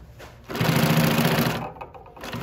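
A Consew 255RB-3 industrial sewing machine runs with a steady, close, loud mechanical whir for about a second before slowing and stopping, then starts briefly again.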